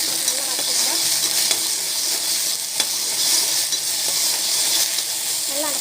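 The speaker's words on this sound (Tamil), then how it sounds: "நல்லா வதக்கிக்கலாம்." Salted ingredients sauté in a hot pan, giving a dense, continuous sizzle broken by occasional sharp clicks and scrapes of a spoon as they are stirred.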